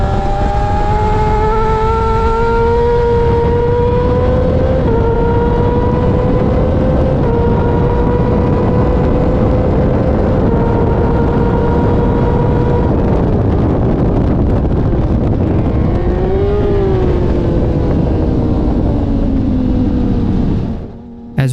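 Supersport motorcycle at full throttle on a racetrack, its engine howling loud and continuous with rising and falling pitch through gear changes and a downshift, wind rush throughout, cutting off abruptly at the end.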